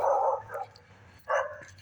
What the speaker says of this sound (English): Here come the dogs barking again.